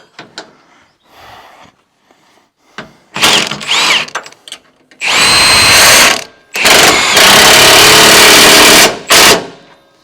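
Ratchet wrench working a new 22 mm bolt up through a replacement spring in a workshop, heard as loud sustained bursts of rapid clicking after a few scattered knocks and clunks, with no talk.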